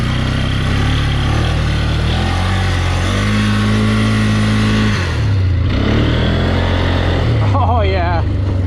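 A Polaris vehicle on a test ride, its engine loud and close, droning and climbing in pitch as it accelerates, with a voice briefly over the roar.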